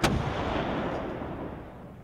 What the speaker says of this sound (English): we're going to be hit by quite a lot of artillery here